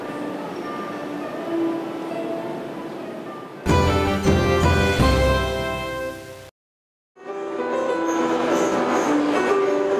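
A metro train runs and rocks along its track, with a continuous rumbling ride noise. A bright musical passage interrupts it midway, a short dead-silent gap follows, and then the train sound resumes.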